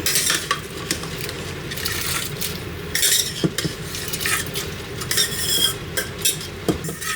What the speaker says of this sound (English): I'm going to add the rice into the pot.